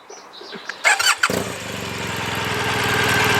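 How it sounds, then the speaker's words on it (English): A motorcycle engine cranks with a few sharp bursts, catches, then settles into a steady, loud, rumbling idle close by. "I'm starting the engine, sir."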